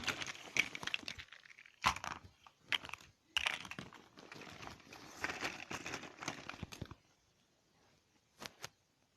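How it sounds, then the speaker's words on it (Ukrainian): Plastic construction toy pieces being poured out and spilled, a dense rattling clatter in several bursts with brief pauses, close and fairly quiet, ending with a couple of isolated clicks. "І я складаю конструктор такий. Зараз висиплю його всього."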